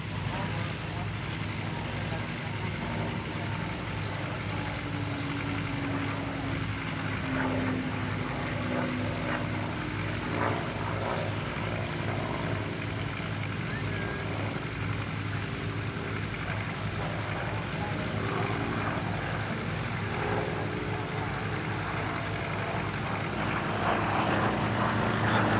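A P-47 propeller fighter drones steadily at an airshow in Paris-Villaroche, its engine a continuous low hum that stays level throughout, while a voice talks over it.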